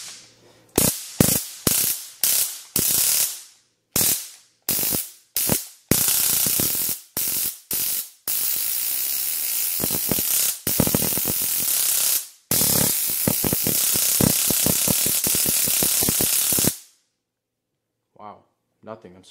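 Handheld stun gun crackling while held to an iPhone X to charge it, loud harsh buzzing electric zaps in repeated bursts of varying length with short gaps, then stopping before a few faint clicks.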